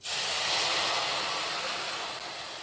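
Milk is poured onto semolina, a close, steady rushing hiss that holds evenly for a couple of seconds and then eases slightly, heard alone.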